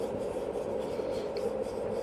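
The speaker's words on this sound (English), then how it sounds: "Right now we're finishing up with a 500 grit sandpaper" A wooden fork-in-the-limb bowl being hand sanded with 500 grit sandpaper, a close, soft, continuous rubbing rasp that stays steady throughout with no other sounds.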